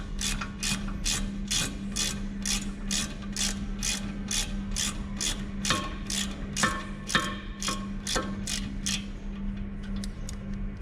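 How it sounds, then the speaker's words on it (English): A 7mm hex wrench loosens the brake caliper bolts on a SEAT Cupra with a steady run of about fifteen sharp, evenly spaced ratchet clicks. The clicks are close and crisp over a low background hum, then thin out near the end. "so now with 7mm hex wrench I'm going to open these two bolts that hold the brake caliper."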